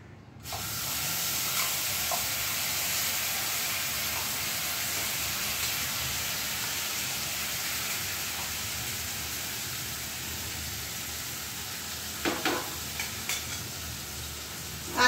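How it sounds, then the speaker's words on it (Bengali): Mustard and poppy seed paste sizzles and hisses steadily in a hot wok for fish curry, a dense continuous fry with a few light clicks of stirring near the end. "এবার আমি বেটে রাখা সর্ষে পোস্ত মিশ্রণটা কড়াইয়ের মধ্যে দিয়ে দিচ্ছি।"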